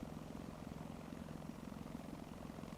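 Steady low rotor chop of a helicopter in the War Thunder video game, a continuous droning thrum with fine rapid pulsing, quiet and unbroken, with no voices.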